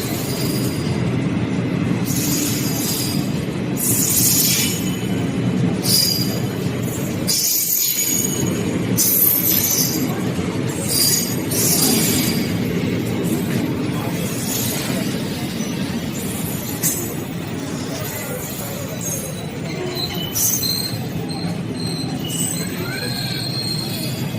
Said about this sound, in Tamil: இதுதான் நம்ம ஏற வேண்டிய வந்தாச்சு.